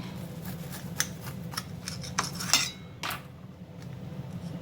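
A knife slices through a grilled cheese sandwich, giving a few crisp scraping cuts and crunches close by over a steady low kitchen hum, with no talking.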